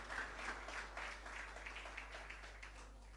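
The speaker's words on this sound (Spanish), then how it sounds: "Dale un fuerte aplauso al Señor" Congregation at a live worship service applauding the Lord, a faint, steady wash of clapping that runs the whole time over a low hum, with scattered shouts rising through it.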